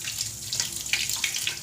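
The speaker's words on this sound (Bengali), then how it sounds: "তো আতা ফলটাকে ধুয়ে নিই।" Running tap water splashes over a custard apple being washed at a sink. Close, steady, hissing spatter that carries on alone for under two seconds.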